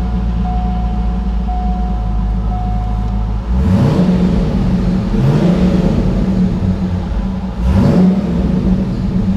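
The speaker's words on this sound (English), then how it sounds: "Hear that exhaust makes that really nice, deep, loud tone" A Corvette engine idles with a steady low rumble, then revs up three times in deep, loud exhaust surges that swell and fall back, close by.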